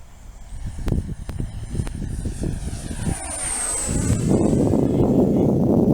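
A FlyFans 64mm L-39 RC electric ducted-fan jet on 6S power passes at wide open throttle, its whine sweeping down in pitch as it flies by, then a steady loud rushing roar, with a few clicks near the start.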